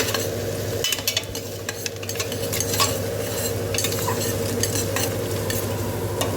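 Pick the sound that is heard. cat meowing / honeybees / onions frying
onions frying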